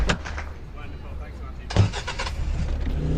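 A golden Toyota Fortuner in a video game rumbles at idle, then its engine fires up partway through with a loud burst and settles into a steady running drone, while someone talks over it.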